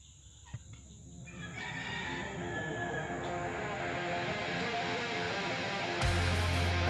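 A neighbor's free-ranging chickens in a yard, a rooster crowing long and loud with clucking fowl around it, nearby and outdoors over a steady background hum.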